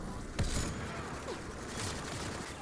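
Gunfire in the video game Mass Effect Andromeda, a sharp loud shot near the start followed by a noisy ambient game soundscape with a second softer burst later.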